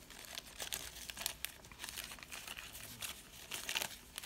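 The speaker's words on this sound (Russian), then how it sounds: "Пакетик так зажали, что прямо не открыть." A tightly sealed plastic bag from a 1/72 scale Holt One Man Tank model kit crinkles and crackles close up as fingers work at it, in quiet irregular bursts of rustling.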